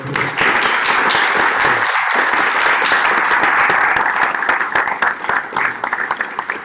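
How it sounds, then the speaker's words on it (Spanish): Audience applause fills a hall after a literary book presentation on disinformation, steady dense clapping sustained loudly throughout and thinning slightly toward the end. "que te demos un aplauso fuerte."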